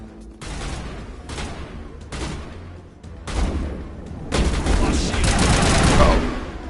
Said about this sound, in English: Guns are loud as hell.